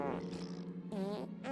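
A cartoon fart sound effect from an animated children's show, a loud buzzy low blast of about a second and a half with warbling tones, heard with no talk over it.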